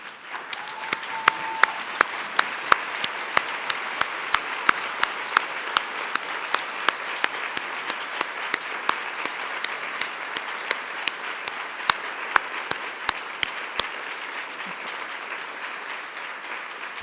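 A large crowd applauding steadily and evenly for a long stretch, with sharp individual claps standing out against the dense wash of clapping.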